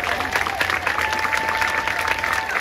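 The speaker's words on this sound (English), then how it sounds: "Let's give them a really resounding applause." Sustained crowd applause at an outdoor March For Our Lives rally in Hartford, Connecticut, dense steady clapping filling the whole stretch at high level with a faint whistle-like tone running underneath.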